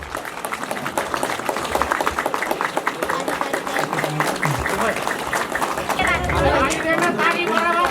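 Audience applause at the Karaputkot Dadhuwa Durchha festival in Nepal, a sustained crowd clapping mixed with chatter and voices throughout.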